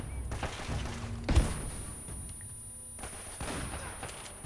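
Shotgun blasts and other gunfire in the video game Uncharted: Drake's Fortune, a series of booming shots with one heavier thump standing out amid a rumbling battle background.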